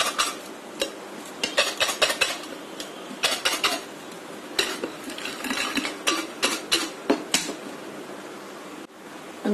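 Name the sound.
shaking nachos with spices in a bowl covered by a plate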